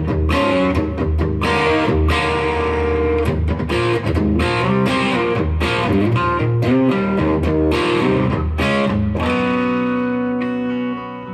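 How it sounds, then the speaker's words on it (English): Electric guitar played through a distortion pedal set to just past half, touch-sensitive crunchy chords and notes strummed continuously at steady volume, with a final chord ringing out and decaying near the end. "increasing the distortion to just past half"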